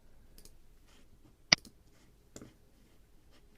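A computer mouse clicks while working in QGIS mapping software, one sharp, close click standing out in a quiet room, with a fainter click about a second later.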